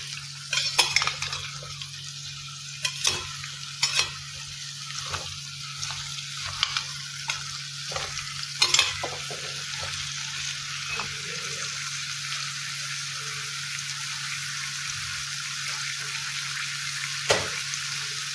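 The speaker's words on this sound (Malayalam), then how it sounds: "നെയ്യ് ചൂടായി വരുമ്പോൾ മത്തങ്ങയിട്ട് നന്നായിട്ടൊന്ന് വഴറ്റിയെടുക്കാം" Pumpkin sautéing in hot ghee for a traditional pumpkin payasam, a steady close sizzle with repeated sharp scrapes and clinks of a spoon stirring against the pan, no talking.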